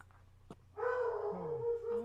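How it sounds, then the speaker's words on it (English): Dogs and wolves howl and bark far off in a game setting, with a short yelp followed by sustained, wavering howls lasting about a second and a half, fairly faint and distant. "You guys hear dogs and wolves in the distance."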